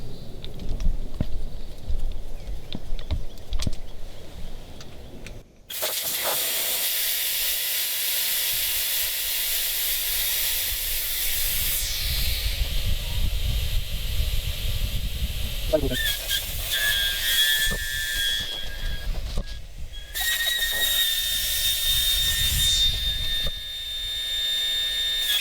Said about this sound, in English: So I'm going to deflate a tire, maybe do all 4 of them, we'll see.